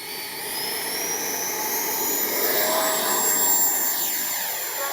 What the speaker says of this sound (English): All right, we're going to take off again.